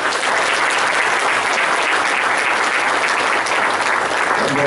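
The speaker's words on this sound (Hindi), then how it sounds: "आइए प्रभु यीशु के लिए जोर से ताली बजाएं।" Loud, sustained applause from a church congregation, a thick even roar of many hands clapping together without a break.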